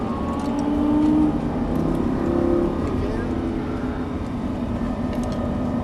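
A Lamborghini Gallardo on a race course, its engine droning steadily under throttle from inside the cabin with rising and falling revs, with a voice talking over it.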